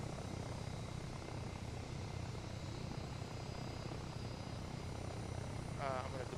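Bell V-280 Valor tiltrotor aircraft hovering during flight testing, with a steady, loud rotor and engine roar filling the whole stretch and holding even throughout.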